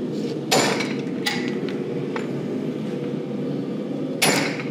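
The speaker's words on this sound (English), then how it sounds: "now we're gonna release the hammer in a cupping tool with the flatter" Sharp metallic hammer blows on a flatter set against a cupping tool while forging a hammer head, a few separate loud strikes spaced apart over a steady background hum.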